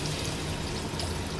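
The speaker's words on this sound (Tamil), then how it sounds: "கடைசியாக தண்ணி ஊற்றிக்கலாம்" Water pours steadily into a pot of home-style biryani, a constant splashing, hissing flow heard close up and alone for a second or so.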